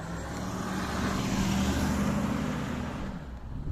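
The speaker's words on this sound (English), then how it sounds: "Nice Mercedes SL." A Mercedes SL car driving past on a street, a steady close road rush that builds and fades over a few seconds, with no talking.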